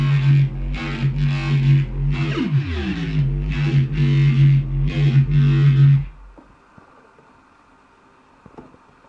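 Distorted Serum software synthesizer bass, its knobs turned so the loud, buzzing low tone warps and sweeps in pitch across pulsing notes, then cuts off abruptly, leaving quiet clicks and faint hum.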